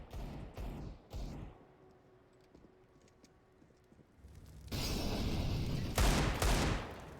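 Rifle fire, including AK shots, in a Counter-Strike match on the Vertigo map, with scattered loud shots early, a quieter stretch, then a dense, loud burst of firing near the end.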